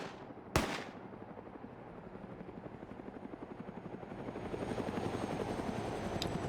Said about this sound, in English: And Rek is shooting at his own helicopter.